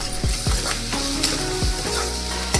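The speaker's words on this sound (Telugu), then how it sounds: "ఇలా అవి ఆయిల్లో మంచిగా ఫ్రై అయ్యేంత వరకు కలుపుతూ ఉండాలి" Onions, green chillies, carrot and curry leaves sizzle steadily in hot oil, with a few soft scrapes and knocks as they are stirred in the pan, close and without speech.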